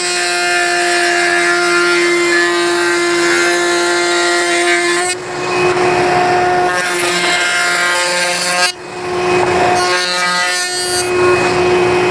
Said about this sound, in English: Sawing out